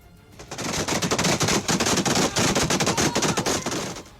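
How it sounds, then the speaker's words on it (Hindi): Rapid machine-gun bursts from fighting on the Panjshir peaks, loud and close, with dense repeated shots in several quick volleys and no voices. "पंशीर की चोटियों पर मौजूद एनआरएफ के लड़ाकों ने तालिबानी लड़ाकों पर ताबड़तोड़ फायरिंग कर दी।"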